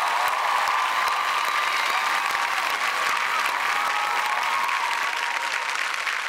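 Sustained loud applause from a large audience celebrating the Marathi film Sairat, dense and steady from start to finish, with no talk over it.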